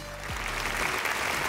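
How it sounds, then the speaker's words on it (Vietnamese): A studio audience on a Vietnamese televised singing competition gives a brief, low-level round of applause for a teaser, a steady hiss of clapping with a low musical hum underneath. "Một tràng pháo tay cho đoạn teaser rất là hay này."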